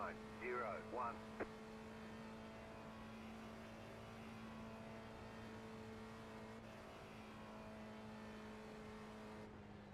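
A race car in the iRacing sim, likened to a Corvette, drones with a steady engine note held at an even pitch throughout, after a few brief spoken words at the start.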